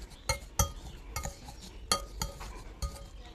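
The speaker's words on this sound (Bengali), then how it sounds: "এখন এরকম করে আমি ম্যাশ করে নিয়ে নিব।" Chopped green chili, coriander leaves and salt being mashed for pani puri filling, giving several sharp scraping knocks at irregular intervals, close and fairly quiet, with no talking.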